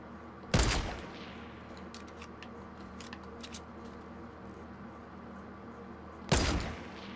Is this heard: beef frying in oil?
no